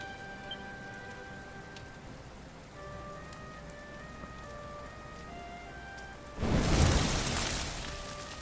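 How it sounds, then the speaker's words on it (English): In Dragon Quest XI, a soft background of tonal game music gives way to a sudden loud burst of rain around six seconds in that then settles to a steady hiss. "Looks like the rain's dying down."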